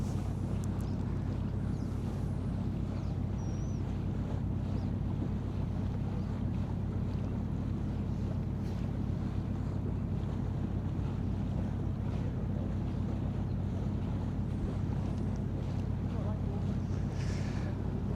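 A small boat cruises near Nanaimo in the Gulf Islands, its steady low engine drone mixed with constant wind buffeting the microphone and water rushing past the hull, with talk in the background.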